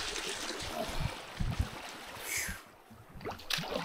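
Waves on a windy lake in the North Maine Woods, slapping and gurgling irregularly against a canoe close by, with soft wind noise and a few sharper splashes.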